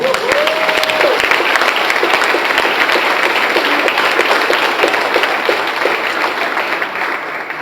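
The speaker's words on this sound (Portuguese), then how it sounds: "Você pode dar um aplauso ao Senhor?" Loud, sustained applause from a large crowd at a church congress, steady throughout, with a brief voice at the very start.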